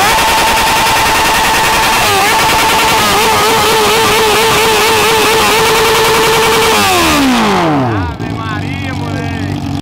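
A Honda Hornet motorcycle engine revs hard and loud up close, a steady high-rpm howl held for several seconds, then drops sharply to a lower idle, with exhaust crackle.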